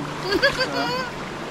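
Splashing in a river as someone wades in to bathe, brief watery splashes close by under excited talk.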